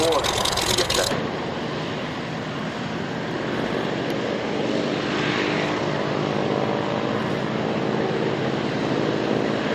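Propeller aircraft engines at the 1999 Duxford Flying Legends airshow drone steadily with a broad, rumbling roar that holds for the length of the recording, after a brief louder burst at the start.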